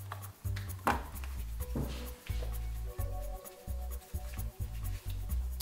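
A deck of playing cards being mixed by hand, with repeated soft rubbing and sliding bursts in an uneven rhythm over a low steady hum, close and fairly quiet, no talk.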